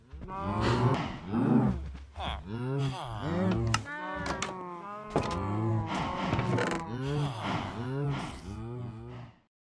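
Minecraft cows moo repeatedly in overlapping, drawn-out calls, loud and close, with a slightly synthetic, game-like quality and no talking.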